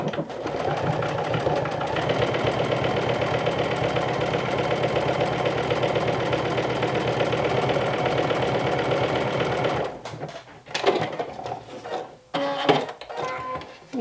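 Sewing machine with a universal needle running a steady 2.5 stitch length through interfaced cotton woven fabric, a fast, even mechanical whir for about ten seconds, then stopping and giving way to a few handling clicks and rustles.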